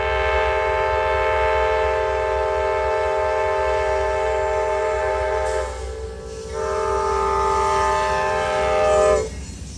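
A loud, drawn-out horn from Amtrak's Crescent passenger train blares over the steady rumble of the passing train, breaking off briefly before sounding again.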